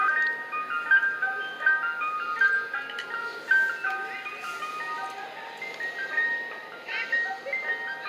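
Chiming melody of an ice cream truck, with repeating bright tonal notes playing steadily at moderate volume over a low background rumble.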